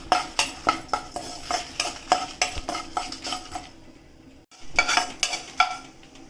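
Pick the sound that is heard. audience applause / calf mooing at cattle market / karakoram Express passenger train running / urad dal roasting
urad dal roasting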